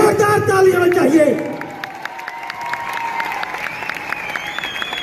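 An audience in a stadium hall applauds, with a dense patter of clapping rising from crowd noise and continuing steadily at moderate loudness.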